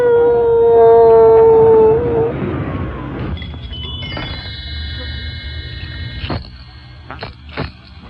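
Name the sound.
howling in a radio show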